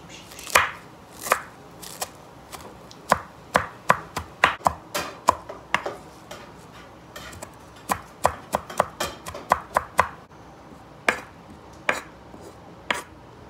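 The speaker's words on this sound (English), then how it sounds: "Got everything chopped up. The cilantro, limes, lemon, jalapeno." A knife chops onions, peppers, cilantro and jalapeno on a cutting board for elk tacos, sharp close thwacks coming in uneven bursts and separate strokes, with no talk.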